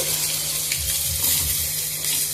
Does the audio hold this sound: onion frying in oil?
yes